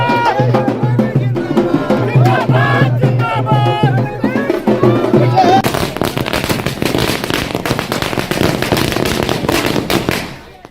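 Firecrackers and fireworks at a JDU party workers' celebration with drums: dense, rapid crackling bursts that swell into a continuous loud barrage, with music and crowd noise underneath.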